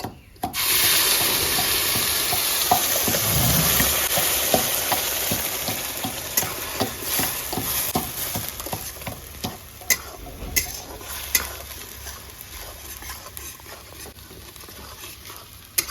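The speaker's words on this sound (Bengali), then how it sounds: "পেঁয়াজটা আমার ভালো করে ভাজা হয়ে গেছে" Onion paste frying in hot mustard oil with cardamom, cloves and cinnamon in a wok, a steady loud sizzle with repeated scraping and clinking stirs throughout, no talk.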